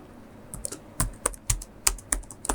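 Typing on a computer keyboard while writing HTML, a quick run of crisp, close key clicks in uneven rhythm with short pauses between strokes, with no voice over it.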